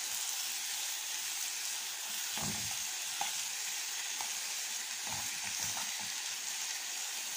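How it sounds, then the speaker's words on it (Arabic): Rice sautéing in ghee or oil, a constant bright sizzling hiss with occasional soft stirring knocks and scrapes, close and steady throughout. "لازم تشوحي الرز كده مع السمنه او مع الزيت"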